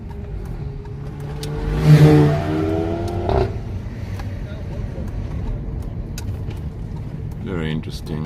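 Mercedes 300CE-24 coupe floored hard from a standstill, its engine note rising sharply for a couple of seconds before settling into a steady cruising drone, heard from inside the car with a brief voice near the end.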